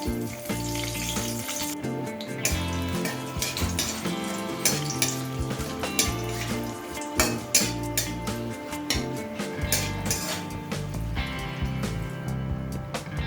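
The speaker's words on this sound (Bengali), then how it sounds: "এবার ওই তেলের মধ্যে আমি দিয়ে দিচ্ছি দুটো তেজপাতা শুকনো লঙ্কা দারচিনি আর ছোট এলাচগুলো" Bay leaves, dried chillies, cinnamon and green cardamom sizzle steadily in hot oil for a Bengali fish-head dal, a loud continuous frying hiss broken by sharp clicks of stirring and utensil knocks.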